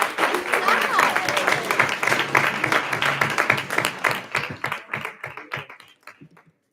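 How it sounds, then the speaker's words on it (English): Round of applause from the audience at a school committee meeting, steady dense clapping with some voices that thins to scattered claps over several seconds. "One more round of applause."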